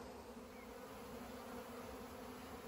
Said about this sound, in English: Oh, the bees are swarming.